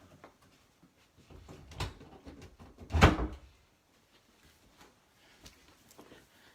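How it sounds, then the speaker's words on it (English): A door being pushed shut indoors in a quiet room, giving one firm thud with a brief rattle, preceded by soft footsteps and shuffling and followed by near silence. "Excuse me while I get up and close this door I forgot to close."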